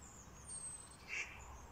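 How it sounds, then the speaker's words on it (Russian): A duck on a lake quacks faintly once or twice over quiet outdoor background noise in a German garden in June, with no voices. "На озере утки развлекаются."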